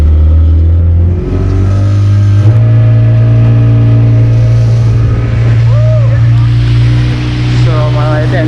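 A Yamaha outboard engine runs steadily on a boat, a loud, close, continuous motor drone with slight shifts in pitch, accompanied by faint wind noise.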